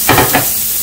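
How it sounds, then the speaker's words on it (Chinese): Vegetables stir-fried in a wok with a little olive oil, a short burst of sizzle and stirring scrapes in two quick pulses, close and moderately loud. "然后开始炒这些青菜"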